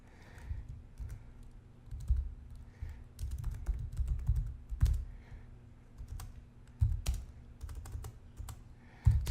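Close, crisp typing on a computer keyboard, irregular bursts of key clicks with short pauses, alone with no talking.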